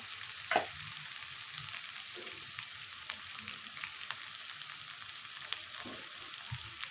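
A salted potato filling for vada sautés in a pan, giving a steady even sizzle with a few soft spatula scrapes and knocks, close by and without talking.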